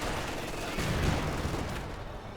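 Katyusha rocket barrages in a strategy video game, heard as a distant rumbling run of overlapping blasts and bursts that swells in the middle and slowly fades, fairly faint and with no talk.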